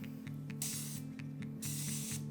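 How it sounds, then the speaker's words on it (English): Two short hissing bursts of olive oil cooking spray from an aerosol can, about a second apart, over a steady low background hum. "utilize my olive oil cooking spray."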